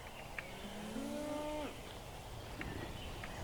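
A Minecraft cow gives one drawn-out moo lasting under a second, mid-distance, against a low constant game background with a few soft ticks and no voices.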